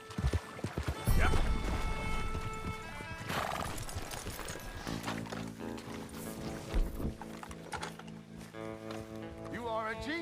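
A horse in the Red Dead Redemption 2 video game whinnies loudly, with hooves clip-clopping and game sounds and music around, a brief voice at moments.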